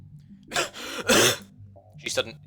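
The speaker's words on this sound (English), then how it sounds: "She started coughing suddenly." A character in the visual novel Ever17 coughing, three harsh rasping bursts separated by short pauses, close and fairly loud against a quiet background.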